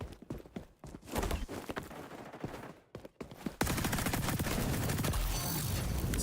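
Gunfire in the shooter XDefiant, with sharp shots scattered through the first half before a dense, loud barrage of continuous firing and game noise takes over the second half.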